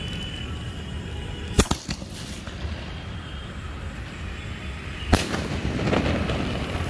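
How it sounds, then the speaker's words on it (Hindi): A golden sky shot Diwali firework launches and bursts outdoors, two sharp cracks a few seconds apart over a steady background hiss. "ओके सो अयांस के स्काई शॉट को चलाते हैं"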